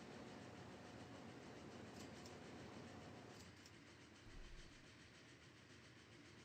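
A train runs in the Transport Fever 2 game with a faint, steady rumble of wheels and carriages. The sound thins partway through, with a brief low thump after that.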